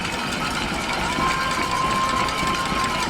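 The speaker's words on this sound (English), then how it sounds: "Crowd making a lot of noise." Broadband roar of a crowd at a high school football game, Chardon vs Mayfield in Ohio, rising on a tense fourth-down stand, steady and loud throughout with a faint whistle tone drifting across the middle.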